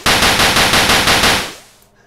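Rapid automatic gunfire in the video game X Operations, a loud burst of evenly spaced shots lasting about a second and a half before cutting off into silence.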